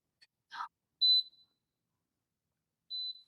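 A stainless steel and glass range hood is switched on, giving a short electronic beep after a faint click and breath, then a second beep a couple of seconds later in a quiet room.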